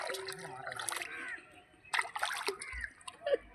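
Live fish splash and thrash in water inside a pot on a rooftop, with bursts of sloshing and spattering separated by brief pauses, close by, while voices talk over them.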